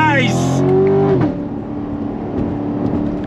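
A 2019 Chevy Corvette Grand Sport with an 8-speed automatic accelerates on throttle, its engine rising loudly through a shift within the first second before dropping to a lower cruising drone, with an excited voice over it.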